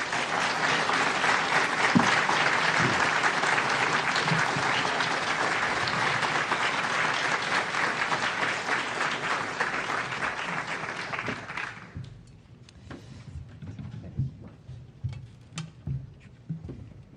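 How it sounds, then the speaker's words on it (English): An audience applauds after a lecture on protecting the piping plover, a full, dense round of clapping that holds steady for about twelve seconds, then quickly thins to a few scattered claps. "One more round of applause for that fascinating and hopeful presentation."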